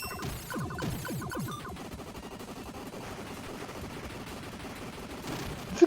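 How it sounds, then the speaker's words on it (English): Rapid missile fire from a ship in the shoot-'em-up video game Gate of Thunder on Turbo CD, a dense rattling stream of repeated shots over game music and explosions, fairly quiet overall. "Does it call the missiles earthquake?"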